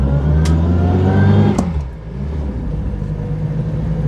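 A car engine revs loudly, then the pitch drops and it settles into a steady low rumble as the vehicle pulls away, close and dominant.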